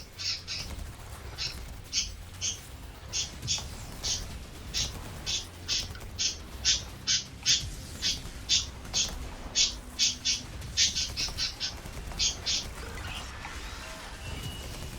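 Pet birds calling in rapid, repeated chirps and squawks, a dense rhythmic run of sharp bursts lasting many seconds, close and fairly loud with a low room hum beneath and no talking.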